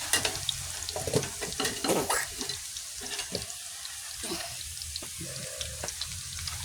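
Banana slices deep-fry in hot oil for homemade banana chips, a soft bubbling sizzle broken by scraping stirs and clattering utensil knocks, with a stretch of running water in the middle and no talking.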